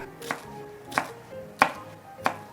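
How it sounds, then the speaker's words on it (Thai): Knife cutting enoki mushrooms on a board, four evenly spaced crisp chops with short gaps of quiet between them, close and fairly soft, no voices. "และเราก็จะหั่นเห็ดเข็มทองครับ"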